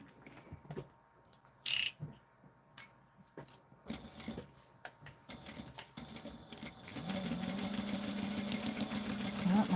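A sewing machine stitches a tote bag, its motor whirring steadily through the last few seconds after scattered clicks and handling noises; a voice speaks faintly earlier on.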